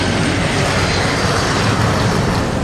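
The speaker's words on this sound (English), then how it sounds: "Captain Marty lifts the supersonic jet into the air" Concorde supersonic jet roaring down the runway on takeoff, a loud, broad, continuous engine rumble and hiss filling the whole clip without pause.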